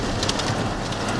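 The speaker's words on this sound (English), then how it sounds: "We got hail, we just can't see it." Hail pelts down during a Missouri storm, a dense, steady patter and crackle of many small impacts filling the short stretch, with no talk.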